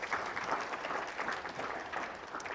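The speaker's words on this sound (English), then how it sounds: "Round of applause again for our panelists for those answers." Soft, sustained clapping from a convention audience for a real estate investing panel, heard faintly and evenly across a short stretch with no talk on top.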